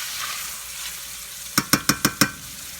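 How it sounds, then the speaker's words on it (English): Onions going into hot olive oil in a pan, a soft steady sizzle followed by five quick sharp knocks of a utensil stirring against the pan. "And then I'm going to go ahead and add my onions. Give those a little stir."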